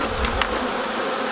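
Honey bees buzzing around a moved beehive as honey supers go on, a close, dense hum with a couple of brief louder passes of individual bees near the ear.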